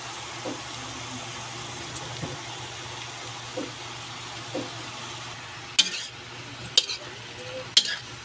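Kangkong and tofu with oyster sauce crackle softly in a pan while a spatula stirs, giving occasional soft scrapes and then three crisp metallic clanks of spatula against pan, with no voices.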